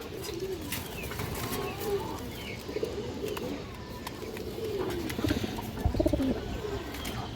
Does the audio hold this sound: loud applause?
no